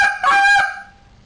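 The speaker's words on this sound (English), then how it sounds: "And then you're going to hit your over-exaggerated spit note." A goose call blows one loud, exaggerated spit note: a short, harsh honk that breaks off sharply and fades, with no talking.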